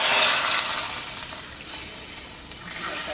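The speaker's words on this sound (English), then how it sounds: "I hear that sizzle." Steady broadband hiss and crackle of hot oil sizzling as garlic tempering is added to dal, loud at first and gradually settling, with no talking.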